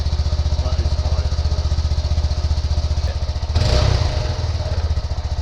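A Honda Grom motorcycle fitted with a Zoom exhaust idles and revs close by, its steady pulsing thrum rising into a louder blip of throttle near the end.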